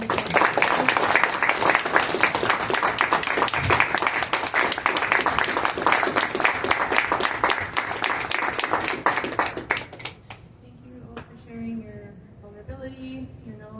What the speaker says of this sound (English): Let's all applaud you